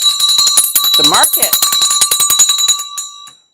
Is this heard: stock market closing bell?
yes